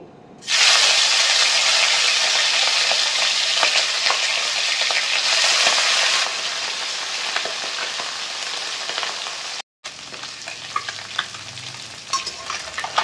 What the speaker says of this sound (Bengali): তেলটা গরম হয়ে গেলে তাতে আমি মাছগুলো ভেজে নেব।